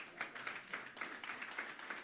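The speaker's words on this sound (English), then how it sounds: "Please give him a big round of applause." Faint, distant applause from a conference audience: a steady patter of many hands clapping at a low level, with no voices over it.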